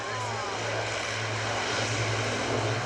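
Military aircraft flying a tactical display at the RIAT airshow at Fairford, a steady engine roar with a low droning tone, sustained and moderately distant, no pauses.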